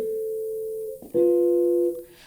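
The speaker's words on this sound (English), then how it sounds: "I can actually play keyboard sounds through here." Two sustained electronic keyboard tones played through a looping app, one held note then a brighter, louder second note with a quick pitch change between them, clean and close.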